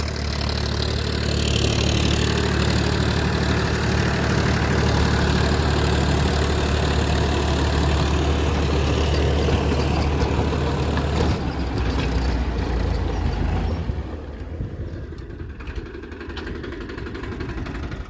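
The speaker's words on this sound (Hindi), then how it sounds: "वैसे ट्रैक्टर ये डबल क्लच में है और मल्टी स्पीड PTO में है फार्म ट्रैक 45" A Farmtrac 45 tractor with double clutch and multi-speed PTO runs at a steady idle, its low diesel rumble continuous and close, easing slightly quieter near the end.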